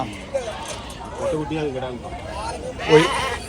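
Goats and young kids at the Veppur goat market in Cuddalore, Tamil Nadu, bleat in a few short calls amid background crowd babble and nearby talk.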